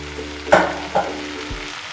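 Potatoes frying in a mix of ghee and mustard oil for Bengali murighonto, a low steady sizzle broken by two sharp scraping stirs of the spatula and a soft knock, close and without talk.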